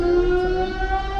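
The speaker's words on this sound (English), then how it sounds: "funny with the air raid siren going off behind us" An air raid siren wails steadily through the streets of Dnipro, Ukraine during wartime, a loud sustained tone with layered harmonics that bends slightly in pitch, heard without talking.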